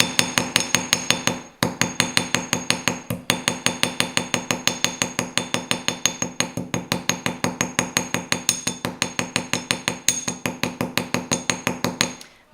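Rapid, steady hammer taps with the flat face of a hammer on a chunky wire rose, a dense run of sharp metallic strikes close up, with only a brief pause near the start.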